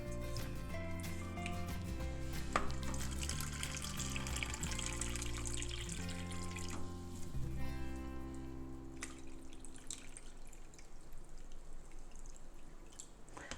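Filtered water is poured steadily over seeds in a sprouting tray, a continuous splashing trickle that fades into soft draining patter, with no talking.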